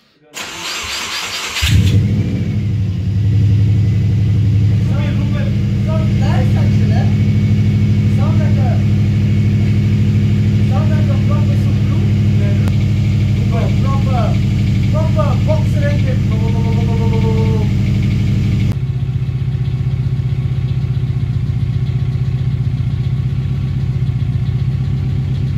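A Subaru Impreza WRX, its rusted 2.5-inch exhaust replaced with a new 3-inch system, cranks and starts, then settles into a loud, deep, steady idle heard close up. A person talks over it, and the rumble drops slightly near the end.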